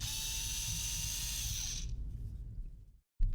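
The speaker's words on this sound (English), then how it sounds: "In terms of the actual loudness and the noise that it makes, it's not the quietest of electric drills, but it's also not the loudest." A Xiaomi cordless electric screwdriver runs with a steady high whine that cuts out at the end, close and loud, followed by a brief silence and a sudden knock.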